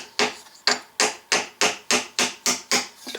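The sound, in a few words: block of wood hammering push pin into can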